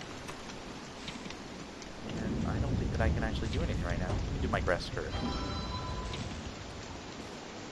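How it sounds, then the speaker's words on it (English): Rain in the video game Don't Starve, a steady hiss of falling drops with low rumbling that swells after the first couple of seconds, running beneath a voice talking throughout. "Rain actually hurts my dude."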